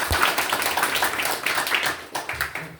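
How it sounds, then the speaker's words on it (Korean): An audience at a victims' briefing session claps together, a burst of close, dense clapping that starts sharply and continues steadily before thinning toward the end. "박수 한번 부탁드립니다."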